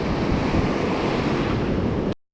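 Ocean surf rolls in on a beach where someone is fishing, a loud continuous roar of distant breaking waves mixed with buffeting wind on the microphone, ending abruptly in silence.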